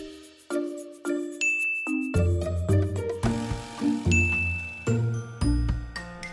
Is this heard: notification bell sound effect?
yes